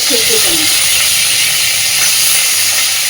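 Potato and onion greens go into hot oil in a home kitchen, giving a loud, steady hiss and sizzle that runs unbroken and close throughout.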